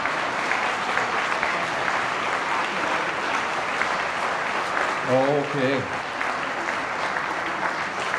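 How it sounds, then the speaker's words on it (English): Audience applause at a 50th anniversary dinner, sustained dense clapping from a room full of guests, with a brief spoken word from a man partway through. "So please give these folks a round of applause."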